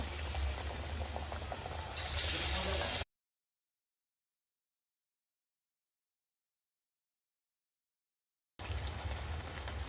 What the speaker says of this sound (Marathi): तर हे भजी आता आपल्याला दोन्ही साईडने चांगले तळून घ्यायचे